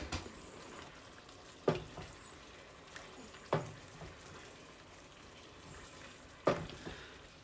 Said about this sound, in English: I'm going to go ahead and add my broccoli to this.